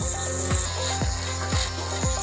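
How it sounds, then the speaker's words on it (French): A thin drill cutting through the lock cylinders of a padlock, a harsh, continuous metallic grinding with a strong high whine and a rhythmic rasping stroke about every half second, close and loud with no talking. "Prenez alors une perceuse fine et commencez à scier les cylindres."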